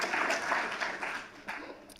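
Audience applause at a Los Angeles mayoral summit, a moderate burst of clapping that swells and then fades over a couple of seconds.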